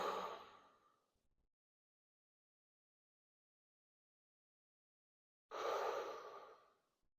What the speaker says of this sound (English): Take a deep breath in. Exhale.